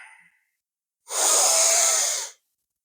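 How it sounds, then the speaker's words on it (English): A single long, slow exhale during a yoga flow, a smooth airy breath lasting just over a second, close and clear against silence, with a faint softer breath fading at the very start. "Long breath in, long breath out."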